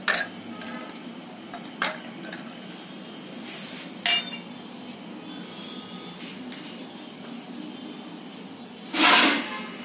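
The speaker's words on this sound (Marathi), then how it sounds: "आता मी ना हे बर्फ घालते याच्यामध्ये" Ice cubes clink into a glass of chilled mint juice, a few sharp clicks early on and a louder, brighter rattle near the end, set against a quiet kitchen with no talking.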